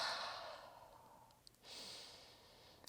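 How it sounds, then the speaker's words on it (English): Close breathing during a yoga stretch: a long, airy exhale that fades out, a short pause, then a fresh inhale rising and holding to the end, soft and near with no talk. "And breathe."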